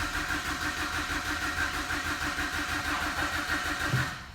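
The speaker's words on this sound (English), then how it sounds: "So straight ahead, we'll crank it over." A BMW 118i E88 with the N43 petrol engine and an automatic gearbox cranks steadily without starting, its starter churning in an even rhythm for several seconds, close and loud, then cutting off.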